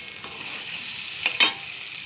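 Spice paste sizzles in oil for a small-fish curry while a spatula stirs it, giving a continuous close hiss with two quick louder scraping bursts.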